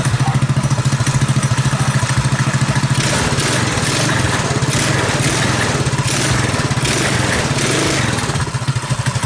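A modified Predator 212cc engine on a KT196 go kart, with advanced ignition, starts and runs loud and close, its steady rapid single-cylinder putter holding throughout with a faint rattle over the exhaust.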